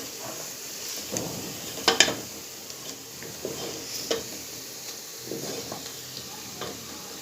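Onions fry to golden in a pot of oil for a korma, with a steady soft sizzle and occasional scraping and clinks as they are stirred.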